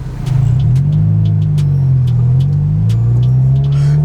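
Honda Civic with a loud aftermarket exhaust, heard from inside the car while driving. A deep, droning exhaust rumble holds steady, with faint clicks and interior noises over it.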